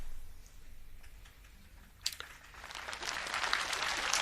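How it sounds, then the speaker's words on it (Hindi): At an evening ashram satsang, faint audience applause starts up after a few scattered taps and builds into soft, steady clapping. The clapping continues to the end, distant and low in level. "बस तालियां ज्यादा नहीं बजाओ"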